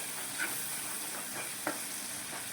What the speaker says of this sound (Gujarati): સ્વાદ પ્રમાણે મીઠું ઉમેરી દઈશું અને થોડીક હળદર ઉમેરી દેશું અને સાતળી લઈશું